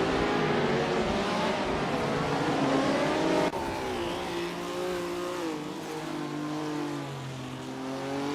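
Race cars accelerating hard during a race, engines whining loud and close with rising and falling pitch, then a sudden cut to another car revving steadily on.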